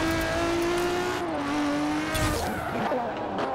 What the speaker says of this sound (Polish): To nie elektryk, bo strzela z wydechu.